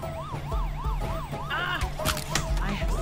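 A police siren wails in a repeating up-and-down pattern, loud and steady throughout, with a second, higher siren tone and some traffic noise joining partway through.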